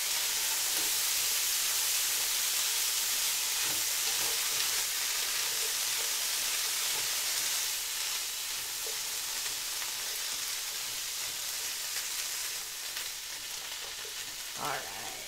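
Bacon and frozen vegetables sizzle steadily in a stir-fry pan, a close, constant hiss and crackle that eases slightly as the cold vegetables cool the pan, with occasional soft stirring knocks and no talk.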